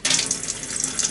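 Water gushes from the tap of a 20-litre reserve tank in a rural cabin, a steady, close splashing stream with a bright hiss that swells and eases slightly, no voices.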